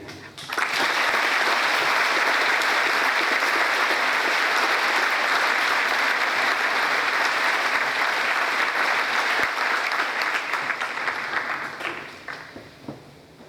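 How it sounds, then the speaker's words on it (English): An audience at a high school Veterans Day assembly bursts into sustained applause, a broad, loud roar of many hands clapping that holds steady for around eleven seconds, then tapers off. "Can we please give Mr. Tony another round of applause?"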